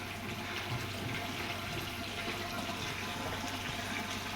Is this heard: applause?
no